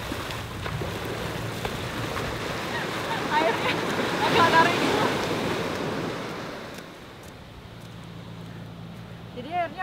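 Large waves roll and break at Bias Tugel beach in Bali, a loud continuous rush of surf swelling midway and then easing, with wind noise and a person talking over it.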